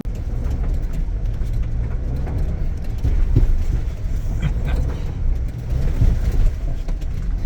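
A 2022 Ford Bronco in two-wheel drive spins its wheels on an off-road trail, producing a steady, loud roaring rumble of engine and tyres that swells slightly in the middle and near the end.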